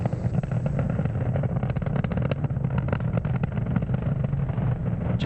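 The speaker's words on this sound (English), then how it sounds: "Just ahead of max Q, we do throttle down the M1D engines briefly to reduce the loads on the vehicle." Falcon 9 Merlin 1D engines roaring during ascent toward max Q on a Starlink Group 5-10 launch, a steady dense crackling rumble with constant loudness and no voices.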